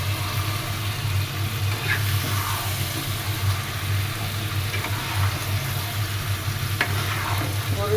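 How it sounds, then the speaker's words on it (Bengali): Animal heart stirred and frying in a pan, a steady close sizzle with scraping stirs throughout, no talk. "হৃদয় রান্না হচ্ছে হার্ট একটু নেড়ে দিই"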